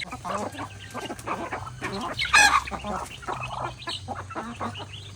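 Native chickens and ducks are fed, with busy clucking and quacking close by and a louder squawk partway through, over a low background hum.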